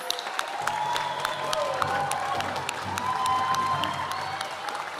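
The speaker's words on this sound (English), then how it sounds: "One more big round of applause for our seniors and 8th graders" A crowd applauds graduating seniors and 8th graders at a Native American graduate honoring ceremony, with dense, continuous clapping, steady in volume throughout, with a few faint voices mixed in.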